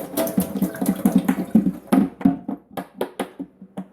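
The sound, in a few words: dirty water dumped out of humidifier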